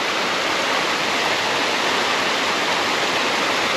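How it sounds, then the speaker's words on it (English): A big river in the Scottish Highlands rushes close by, a loud, dense, continuous roar of running water with no pauses and no voices. "Maybe not the big river, it makes too much noise."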